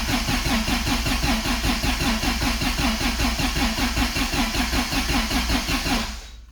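The engine of a Toyota Celica RA64 cranks over steadily with the handbrake up, a loud rhythmic starter churn that never fires and stops abruptly near the end.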